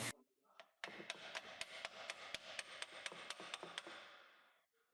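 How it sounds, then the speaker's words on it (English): A hammer taps repeatedly on a CV joint to free it from a VW Passat drive shaft, about fourteen sharp, evenly spaced metallic knocks with ringing between them, close and alone. "Just tap it a few times and it'll come right off."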